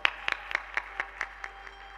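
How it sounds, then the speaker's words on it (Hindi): Rhythmic, evenly spaced clapping from an audience at a Shiv Mahapuran religious discourse, fairly faint and set back in the hall. "एक बार तालियों के साथ उनका आदर कीजिए।"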